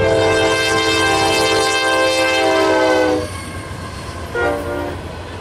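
A loud train horn blares in a long sustained chord close by, cuts off, then sounds again briefly over the steady rumble of a passing westbound ethanol freight train at Huron, Ohio.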